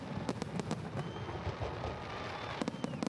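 Independence Day fireworks in Marquette crackle and pop at a distance, a faint, steady spray of small bursts over a hissing background, with no voices.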